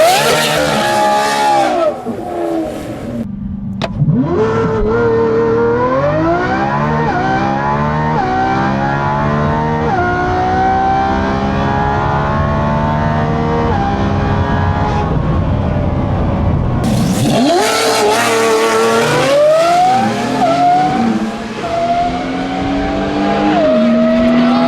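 A Lamborghini Revuelto launching down a quarter-mile drag strip, its engine screaming loudly through repeated rising gear pulls with brief dips at each shift, continuous and close throughout.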